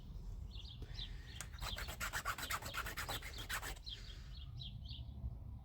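A small chainsaw file rasps against a piece of scrap metal in a quick burst of about a dozen rhythmic strokes, close and fairly loud, with faint bird calls before and after.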